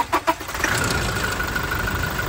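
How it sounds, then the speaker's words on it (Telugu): A 2017 Toyota Innova Crysta diesel engine cranks with two quick pulses, then catches on a single start and settles into a steady, even idle with a faint whine. "మీకు ఇప్పుడైతే ఒకసారి ఇంజన్ స్టార్ట్ చేసి చూపిస్తాను"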